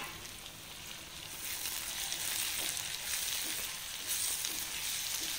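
Small chopped tomatoes sizzle with softened onions in a pan for a Kerala-style egg roast. A soft, steady frying hiss swells slightly as the tomatoes settle in, with faint occasional ticks of stirring and no voices.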